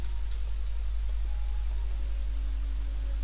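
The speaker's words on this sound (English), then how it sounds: "It's raining." Steady rain falls in the building game Kingdoms and Castles, a constant soft hiss of raindrops with a low rumbling bed beneath it, alone with no talk.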